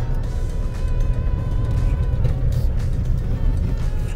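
Steady road traffic on a Goa road at six in the morning, a continuous engine rumble of passing cars and other vehicles that stays loud and even throughout, with no talking.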